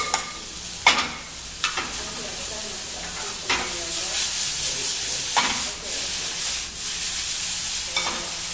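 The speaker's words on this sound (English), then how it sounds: "Little quick saute. Now we put the turkey with the vegetables." Turkey and vegetables sauté in a hot pan with a loud, steady sizzle, broken by scraping stirs and bursts of hissing as the mixture is turned, close and continuous.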